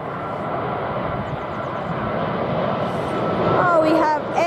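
Aeroflot airliner at Heathrow airport, a broad steady engine roar that builds slightly louder toward the end, with a higher whining tone emerging as the plane draws near.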